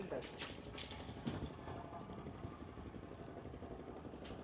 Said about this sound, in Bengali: ঢেউ, স্রোত।